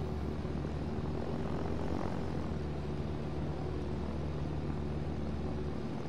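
A propeller airplane engine drones in a flight simulator video game, a steady, moderately loud hum with a constant tonal whine throughout and no talking.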